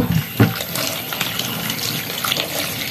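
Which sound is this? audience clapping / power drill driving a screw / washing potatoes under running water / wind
washing potatoes under running water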